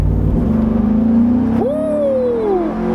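Chevy SSR retro convertible pickup truck engine revving under acceleration, a loud close roar whose pitch climbs, drops at a gear change, then rises again, heard from inside the vehicle with no talk.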